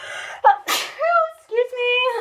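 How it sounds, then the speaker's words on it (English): A single close, sharp human sneeze, preceded by a short intake of breath and followed by brief voiced exhalations. "Oh no, I'm gonna sneeze."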